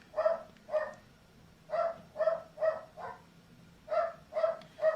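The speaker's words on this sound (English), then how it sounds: "And it set the dogs off, obviously." Dogs bark in short groups of sharp, repeated woofs, somewhat distant and moderately loud, with brief pauses between bursts.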